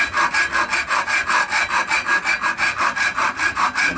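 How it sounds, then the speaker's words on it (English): A hacksaw cuts down the center of a wooden piece in quick, even back-and-forth strokes, a close, rhythmic rasping with about five strokes per second, alone and without talk. "keep rocking the hacksaw back and forth and slowly tip it lower and lower"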